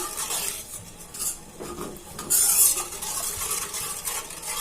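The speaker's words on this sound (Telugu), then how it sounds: "ఈ విధంగా నెమ్మదిగా కలుపుతూ ఉండాలి అప్పుడే అడుగు అంటకుండా చక్కగా వస్తాయి" A spoon slowly stirring thick milk in a pan for homemade chocolates, soft scraping swirls against the pan bottom with faint simmering, close and continuous, no voices.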